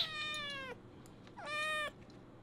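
A three-month-old female kitten meows twice, each call long and clear with a drawn-out, slightly falling pitch, close by and alone with no talk over it.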